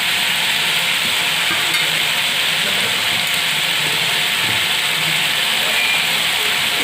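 Spices being stirred into frying brinjal curry with onion and tomato, a steady close sizzle and hiss of the pan throughout with faint scraping of the spoon, no talk.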